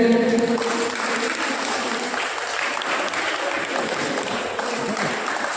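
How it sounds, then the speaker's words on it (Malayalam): An audience applauds a first-prize winner at an Onam prize-giving at the Erikad Gurudeva temple, a dense burst of clapping that starts loud and settles into steady continuous applause, with a few faint voices in the mix. "ഒന്ന് കൈയടിച്ച്."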